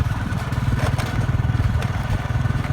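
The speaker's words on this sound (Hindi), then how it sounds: "ये देखें बस बाइक के ऊपर जा रहा हूँ सफ़र करता हुआ" A motorcycle's engine putters with a steady, fast low thrum while riding along a rural road past fields, close and continuous with faint wind noise and no talking.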